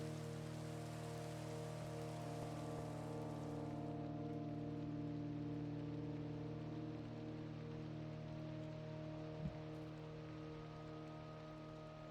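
Steady rain in the Minecraft game world, a constant soft hiss with a low drone underneath, evenly sustained throughout with no talking.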